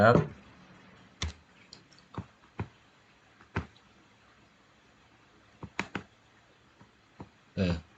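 Scattered computer keyboard key presses and clicks, a few separate taps and short bursts with pauses between them, close by under soft talk while working on PHP code.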